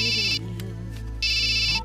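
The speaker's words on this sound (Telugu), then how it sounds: "అమ్మాయి ఫోన్" A phone's electronic ringtone sounds in two close, bright bursts with a short pause between them, loud and near over a faint low background.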